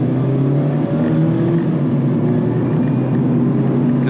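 A 2024 Mazda MX-5 Miata RF Grand Touring engine holds a steady, loud drone at fairly high revs, sounding close and continuous with no gear change evident.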